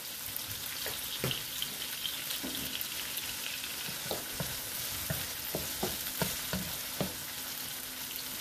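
Cabbage with sardines is stirred in a frying pan, a soft close sizzle under repeated scraping taps of the utensil in an uneven rhythm, with no talking.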